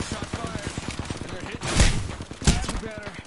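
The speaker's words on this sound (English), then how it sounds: "Did you shoot at them?" Rapid automatic gunfire in the video game Apex Legends, with dense bursts of shots and two louder blasts, mixed with players' talk.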